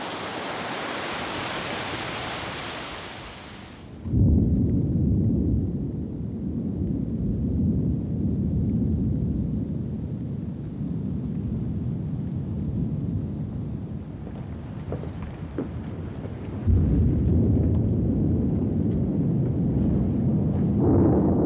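Heavy tropical rain pours down in the Top End bush of northern Australia, a dense roaring wash that drops briefly and then surges back, with low rumbling like distant thunder beneath the downpour.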